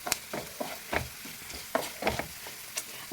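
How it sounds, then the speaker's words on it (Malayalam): Garlic frying in hot oil until browned, a continuous close sizzle broken by irregular stirring scrapes and clicks in a pan, with no voices. "നന്നായിട്ട് മൂത്ത് വരട്ടെ. നമ്മുടെ വെളുത്തുള്ളി ഒരു ബ്രൗൺ കളർ ആകുമ്പോൾ"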